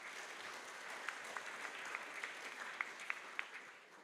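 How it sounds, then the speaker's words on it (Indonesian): A church congregation at a Sunday Trinity service in Yogyakarta applauds steadily, a soft dense wash of clapping heard from a distance, with a few sharper individual claps standing out. "Tepuk tangan kita kerina."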